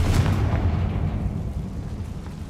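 A Confringo fire spell explodes in Hogwarts Legacy as a heavy, rumbling boom that starts loud and slowly fades over a couple of seconds.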